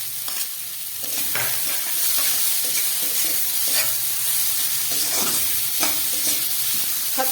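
Boiled chana dal is sautéed in spices in a pan, giving a continuous loud sizzle with repeated scraping stir strokes throughout.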